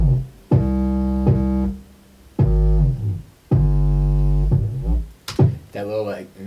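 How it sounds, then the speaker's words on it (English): Gliding synth bass line with overlapping notes that slide into each other, loud and sustained across several phrases, followed by a brief formant-effect sweep at the end, with no talking. "I want it to kind of glide where it goes doo-doo-doo."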